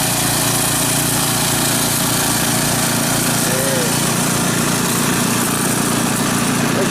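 A snowblower engine running during a snowstorm, a steady loud buzzing drone held close and unbroken throughout, with faint speech barely rising above it.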